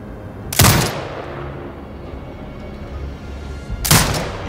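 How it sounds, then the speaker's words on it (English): Two heavy turret shots ring out in Sniper Ghost Warrior Contracts 2, each a loud booming blast with a brief rumbling tail, spaced about three seconds apart over a quiet background. "Exit binocular mode and command the turret to fire"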